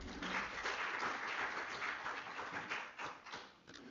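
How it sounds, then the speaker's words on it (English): A seminar audience applauds steadily, many hands clapping in a dense, continuous patter that fades slightly at the end. "let's give them a round of applause"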